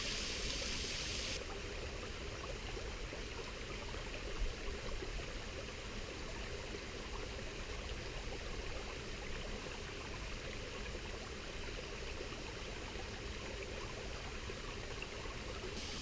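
A river flowing right beside a wild campsite near a waterfall, a steady, dense rushing and gurgling wash that fills the whole stretch without a break, close and fairly loud, with no voices.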